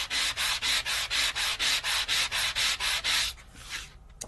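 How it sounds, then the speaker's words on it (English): Back-and-forth strokes sand the flat back side of a Sizzix stencil, about a dozen brisk, evenly spaced rasping rubs up close, then a softer final scrape and stop, with no talk. "So the back side is always going to take a little bit longer to sand."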